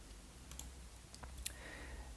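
A computer mouse clicking and keys tapping while working in WebStorm on Linux, a few sparse, faint clicks and light taps spread across two seconds over quiet room noise.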